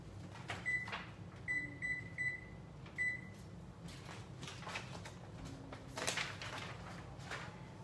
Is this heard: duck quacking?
no